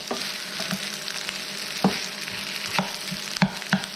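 Egg fried rice sizzling in a non-stick skillet, a constant close frying hiss broken by soft clicks and scrapes of the utensil stirring the rice.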